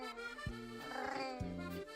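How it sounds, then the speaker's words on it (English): A cat meows in a series of short, tonal, wavering calls that rise and fall in pitch, heard fairly quietly and steadily over about two seconds. "did you hear that cat say buongiorno back?"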